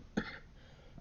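A single short cough, close to the microphone, followed by quiet room sound.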